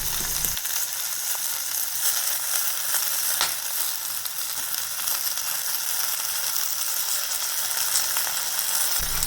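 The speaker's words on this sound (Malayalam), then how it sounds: "ഇനി നമ്മൾ എടുത്തു വച്ചിരിക്കുന്ന മുരിങ്ങയിലയിലേക്ക് ഇട്ട് കൊടുക്കാം." Fresh drumstick leaves hit a hot pan of cooked-down curry base and set off a steady, loud sizzle that holds evenly from start to finish, with no voices over it.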